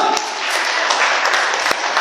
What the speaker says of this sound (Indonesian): Tepuk tangan bagi Tuhan Yesus, teman.